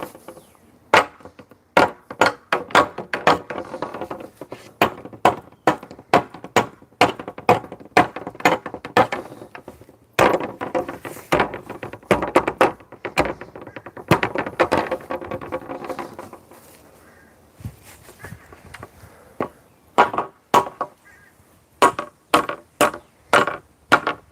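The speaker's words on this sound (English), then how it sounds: "So I have the fun job of swinging this axe" An axe is swung repeatedly into wood: a long series of loud, sharp chopping thunks in quick uneven bursts, with a brief lull partway through before the blows resume.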